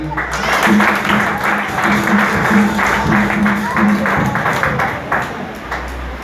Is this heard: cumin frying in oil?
no